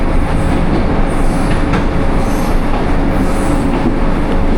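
The Jaffar Express rushes past on a rainy day, a loud, close, continuous roar of wheels and carriages on the rails with a faint high squeal above it.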